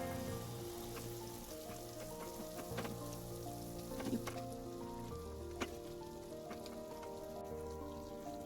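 Eggplant pieces hit hot spices in a pan over low flame for Hyderabadi bagharey baigan, giving a continuous soft, crackling sizzle that stays fairly quiet and steady throughout, with no voices.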